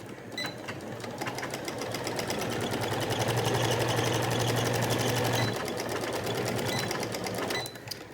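A sewing machine stitches a cloth face mask in one fast, steady run of rapid needle strokes, close and clear, before stopping abruptly and giving a short final burst.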